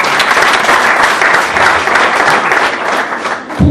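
A crowd at an Umuganura harvest celebration ceremony in Kinyinya breaks into loud, sustained applause, a dense wash of many hands clapping close by for nearly four seconds, dipping slightly near the end, with no talking.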